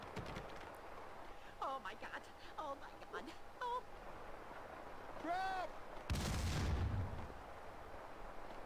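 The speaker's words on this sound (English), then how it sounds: "They're still throwing grenades. Why are y'all still throwing grenades?" Grenades go off in a first-person video game. Voices and tonal game sounds come first, then one loud, rumbling explosion bursts close by near the end.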